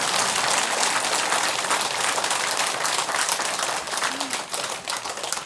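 An audience at a Buddhist monk's dharma talk breaks into dense, sustained applause, a broad steady wash of many hands that thins slightly toward the end.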